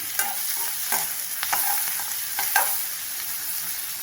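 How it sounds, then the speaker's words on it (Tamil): Onions sizzle steadily in a pan while a utensil scrapes and stirs at irregular intervals, close up with no talking. "அடுப்பை சிம்மில் வச்சு வெங்காயத்தை கிளறி கொடுத்துக்கலாம்."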